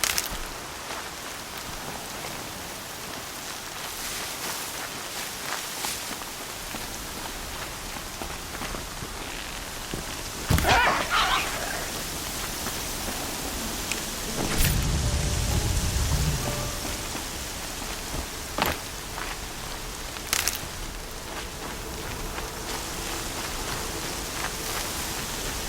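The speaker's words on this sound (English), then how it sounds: "Here comes the rain." Steady rain falls throughout a Horizon Zero Dawn game scene, a continuous hiss with a few brief louder swells and one low rumbling burst midway, with no voices.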